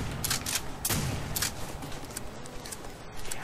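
Gunfire in a zombie shooter game, a rapid series of sharp shots in irregular bursts over a constant noisy background.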